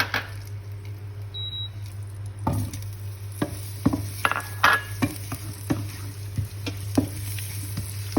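Chopped ginger sautéing in Star margarine with a little oil, stirred now and then, giving a steady low sizzle broken by scattered utensil scrapes and taps against the pan, with a louder clatter as it goes in.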